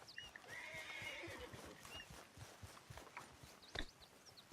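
A horse in Red Dead Redemption 2 whinnies loudly as it is called, while hooves clip-clop in a steady patter. A second, shorter whinny follows near the end, and no one speaks.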